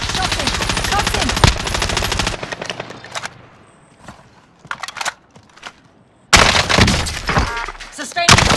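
Automatic weapon fire in the Call of Duty: Modern Warfare video game: loud sustained bursts open the clip, give way to sparse scattered shots and thuds, then a heavy barrage returns, with game voice callouts mixed in.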